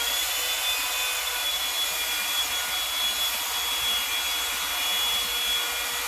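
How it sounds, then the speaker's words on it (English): A Revlon One-Step Volumizing hair dryer blows hot air in a loud, steady whoosh that holds constant from start to finish, with no talking. "this blow dryer is really hot now"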